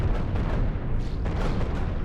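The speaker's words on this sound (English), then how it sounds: "Deck cannons are firing." Deck cannons on a spaceship fire in the game Cosmoteer, a dense rapid barrage of booming shots and bursts that runs without a break.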